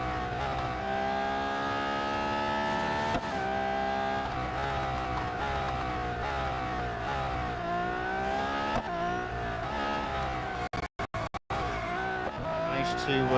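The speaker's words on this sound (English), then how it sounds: "Managed to skid there a bit again." Race car in Real Racing 3 roaring at high revs through gear shifts, with tires squealing as it skids through a corner; loud, continuous engine tone with brief dropouts near the end and no talk.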